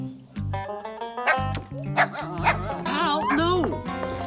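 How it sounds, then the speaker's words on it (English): An excited cartoon dog yips and barks in quick bursts over a busy scene of layered voices and music, loud and close, with several short barks and whines spread through the moment. "Dog is out of control."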